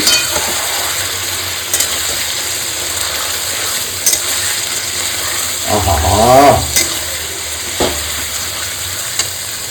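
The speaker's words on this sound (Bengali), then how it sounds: "এবার ম্যারিনেট করা টক দই একটু নুন দিয়ে ম্যারিনেট করা চিকেনটা এর মধ্যে দিয়ে দেবো ওহো দিয়ে একটু ভালো মতো কষাবো" Yogurt-marinated chicken fries and is stirred in a pan, giving a steady background sizzle with occasional spoon knocks and a brief louder burst of scraping and bubbling midway.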